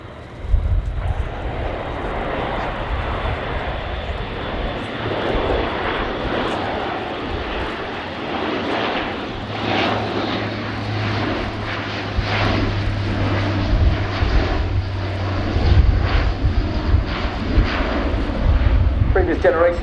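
Airbus A400M military transport aircraft in a flying display at RIAT 2019, its loud, continuous turboprop drone holding throughout with a low throbbing hum building later, while a commentator talks over it.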